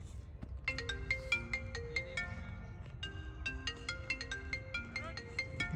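An incoming-call ringtone plays from a phone, a bright repeating electronic melody of stacked tones that runs loud and steady through the whole stretch with no voices over it.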